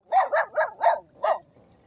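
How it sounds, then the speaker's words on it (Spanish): Dogs on an island barking outdoors in cold weather: five quick, fairly close barks in a short burst, the last one set apart after a brief pause, then a faint whimpering tail. "Me vinieron a atacar unos perritos"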